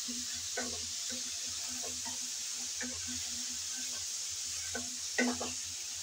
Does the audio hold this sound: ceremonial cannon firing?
no